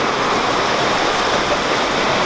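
Flooded stream in Limburg rushing with force, a loud, continuous, broadband roar of turbulent water close by, steady throughout with no pauses.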